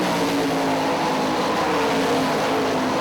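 Sprint cars racing wheel to wheel on a dirt oval at Hartford Speedway Park, a loud, continuous engine roar with no gaps, as several cars run side by side through a corner.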